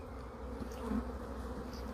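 Honey bees buzz around a hive in swarm season, a close, steady drone with a few individual bees rising briefly above it.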